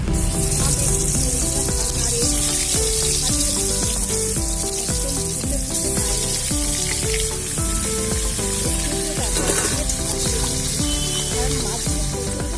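Pangas fish frying in oil in a pan at home, a dense continuous sizzle and spatter, close and fairly loud throughout with clinking underneath.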